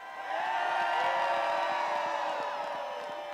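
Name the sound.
crowd cheering at Groundhog Day, Gobblers Knob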